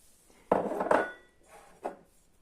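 Pieces of melon, berries and pear are mixed in a bowl for breakfast, giving a few soft close clinks and scrapes of a utensil against the bowl, brief and moderately quiet.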